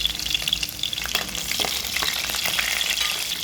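Green chillies fry in hot oil with a steady, dense sizzle and crackle that stays close and loud throughout, with faint stirring scrapes and no talk.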